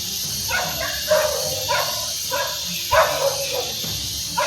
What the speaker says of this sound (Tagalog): So may mga aso dyan.